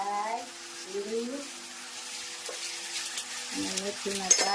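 Mustard seeds and cumin sizzle in hot oil while tempering a radish-pod sambharo, a soft, steady crackling hiss heard faintly beneath someone talking nearby.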